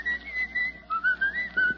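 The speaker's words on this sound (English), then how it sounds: "What are you doing whistling Pale Hands?" A man whistles the tune Pale Hands in a radio comedy scene, a clear melodic whistle in short phrases rising and falling, close and alone with no talk.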